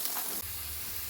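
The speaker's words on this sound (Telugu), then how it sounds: "ఒక 2 పెద్ద ఆనియన్ సన్నగా కట్ చేసి పెట్టుకున్నాను, ఇందులో వేసుకుంటున్నాను" Thinly sliced onions with a pinch of salt frying in hot oil, a close steady sizzle that softens slightly after a brief start, with no talking.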